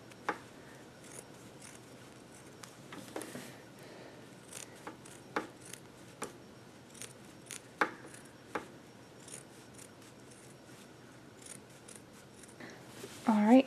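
Scissors snip small clips into the fabric seam allowance of a sewn bandana bib, a series of light, irregular cuts close up over faint room noise, with occasional talk.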